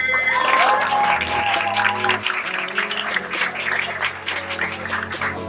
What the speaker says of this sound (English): I want everyone to give a warm, Sour Family round of applause to Miss Kiki.